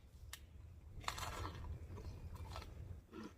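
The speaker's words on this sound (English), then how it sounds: "And I'm going in for a bite. And I want you to hear the crunch." A crunchy fish taco is bitten into close to the mic, giving a few sharp crisp crunches followed by quieter chewing crackles in an otherwise quiet room, with no talking.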